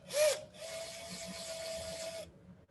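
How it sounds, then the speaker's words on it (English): A small drill bit boring a shallow hole into the end of a wooden twig: a brief initial whir, then a steady mechanical hum with faint scraping for about two seconds before stopping. "I'm going to drill a super shallow hole in the end, just like that."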